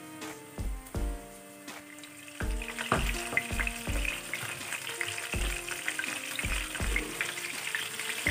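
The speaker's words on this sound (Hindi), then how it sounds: "यहाँ चिकन को फ्राई करना है हमें 1 बाय 1" Chicken pieces for chilli chicken fry in oil with a soft bubbling sizzle, while sharp ringing metallic clinks and knocks of utensils against the pan repeat irregularly close by.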